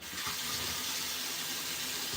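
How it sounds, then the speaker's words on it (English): Water runs steadily from a tap as hands are washed at a sink, a continuous close splashing hiss with no pauses and no talking. "Let me wash my hands."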